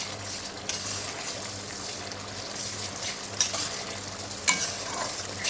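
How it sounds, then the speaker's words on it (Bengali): Masala for a mutton and potato curry fries and sizzles steadily in a pan, with a few spoon scrapes as it is stirred down until the oil separates. No one speaks. "এবার আমি মশলাটা ভালোভাবে কষিয়ে নেব যতক্ষণ না মশলা থেকে তেলটা ছেড়ে দিচ্ছে"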